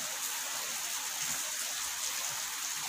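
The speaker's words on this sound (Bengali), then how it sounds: "দেখো বৃষ্টি পড়ছে" Light rain falls outside during stormy weather, a soft continuous hiss of drops heard faintly from indoors.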